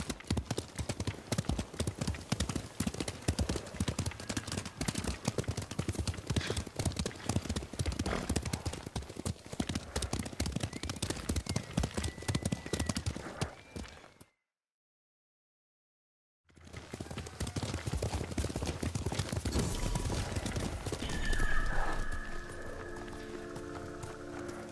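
Horses galloping in Ghost of Tsushima, a rapid close clip-clop of hooves drumming steadily, breaking off into a couple of seconds of silence before resuming, with a brief whinny and some low voices near the end.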